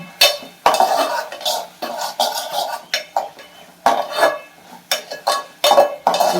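Tomatoes are stirred and sautéed in a pan for an egg drop curry, with repeated close metallic clinks and scrapes of a spoon against the pan in irregular bursts and only a faint sizzle underneath.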